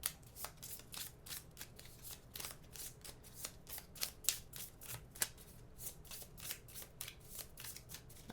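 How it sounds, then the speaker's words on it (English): A deck of event cards for the board game Final Girl being shuffled at close range, a steady run of crisp riffling bursts and snaps with no talk over it. "So I'm just going to give them a shuffle."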